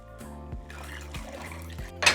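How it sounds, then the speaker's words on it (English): Water poured into a soup pot for Mexican meatball soup gives a soft, close liquid trickle and splash under a steady background tone, lasting about two seconds. "along with 2 quarts of water"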